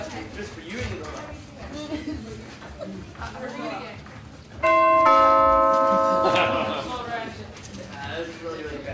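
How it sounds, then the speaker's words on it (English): A bell rings once during a Christmas pageant stage play in a theater, a bright sustained tone that stands out clearly over crowd murmur and talk, then slowly fades. "Who's gonna ring the doorbell?"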